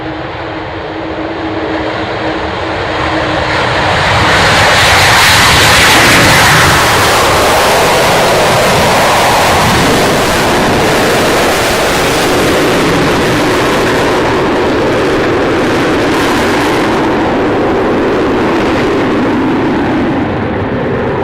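Avro Vulcan bomber flying past at the Royal International Air Tattoo, a loud sustained jet roar that swells around the middle and stays heavy and broadband to the end, with no talk over it.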